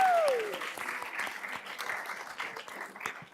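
Applause from the audience at a county commissioners' meeting, a moderate, steady patter of many hands clapping after a brief tone fades at the start, sustained to the end.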